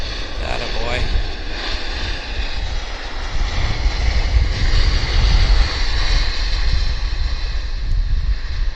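A passenger airplane lands and taxis at Vancouver Airport, its engines a loud, steady, broadband roar that swells slightly midway and holds without a break.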